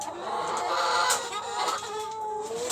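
Hens cluck and squawk close by in a farmyard coop with roosters, giving a continuous stream of overlapping calls with no voices present.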